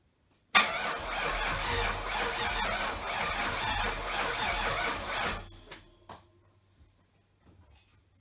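A Chevrolet Avalanche's 6.0L V8 cranks and fires, running loud and rough with a squealing edge for about five seconds before cutting off, followed by scattered faint clicks and knocks.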